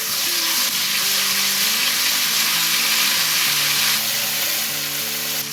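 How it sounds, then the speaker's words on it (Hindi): Garlic ginger paste fries in a pan for vegetable pulao, giving a loud, continuous close-up sizzle with a faint bubbling undertone and no talk. "इसमें 1 टेबलस्पून लहसुन अदरक पेस्ट वो डाल दें और इसको लहसुन अदरक को भून लें।"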